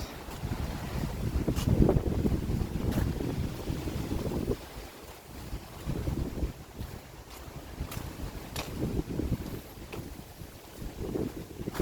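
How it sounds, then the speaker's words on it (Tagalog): Strong gusting wind on Hobbit Hill in Albay, Bicol, Philippines buffets the microphone with loud low rumbling bursts that rise and fade, continuous and close, with no voices. "Lakas ng hangin guys"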